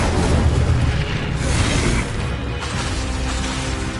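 The Incendio fire spell is cast in the video game Hogwarts Legacy, a loud, dense roaring burst of flame that holds steady for several seconds with no voice over it.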